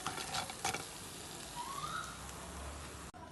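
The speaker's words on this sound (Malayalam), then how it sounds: "അപ്പോൾ നമ്മൾ ചക്ക പക്കോറ ഇതുപോലെ മുഴുവനായും വറുത്ത് കോരാം." Jackfruit pakora deep-frying in hot oil, a soft, steady crackling sizzle heard close by, with a couple of brief clinks from a utensil and a sudden cut near the end.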